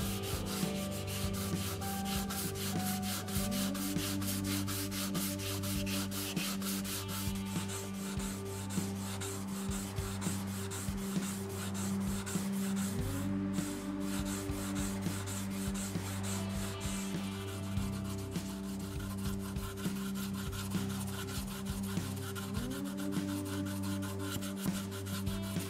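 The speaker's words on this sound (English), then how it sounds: "I'm using a combination of the flat sanding block and the spindle sander attachments to sand off the finish." Finish being sanded off an electric guitar headstock with a flat sanding block and a spindle sander, a steady continuous rasping and rubbing over a motor hum, close and loud for the whole stretch with no talking.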